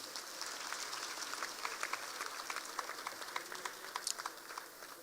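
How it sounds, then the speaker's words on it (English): A business summit audience claps for a speaker, a continuous patter of many hands heard somewhat distantly, fairly even in level with a few sharper individual claps standing out. "Please give him a big applause."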